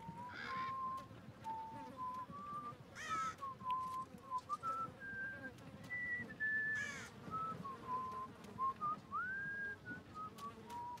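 Wind whistles through a scene in the Game of Thrones Telltale video game, a thin wavering tone that rises and falls steadily for the whole stretch, with brief gusty bursts breaking over it now and then.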